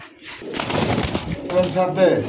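Red dauka pigeons coo softly and close by, in short throaty bursts mixed with a busy market crowd, and someone talks over them.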